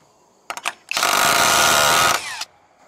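A loud, steady mechanical buzz from a handheld auto hammer runs for over a second after a few short clicks and bursts, then cuts off, during a mountain cabin build.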